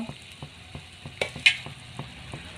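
A steady sizzling bubble with occasional soft clinks and splashes as cleaned fish pieces drop into a simmering chilli fish curry; no voices.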